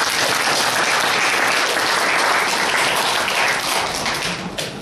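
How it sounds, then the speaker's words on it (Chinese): A church congregation claps together during a sermon, a dense, steady wash of hand claps filling the room at close range and holding loud throughout before thinning slightly at the end. "我再次拍手"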